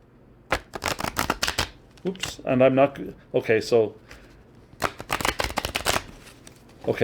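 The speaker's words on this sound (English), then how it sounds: "let me show you a riffle shuffle from the side." Two quick riffle shuffles of tarot cards, each a rapid fluttering purr, come between stretches of a person talking.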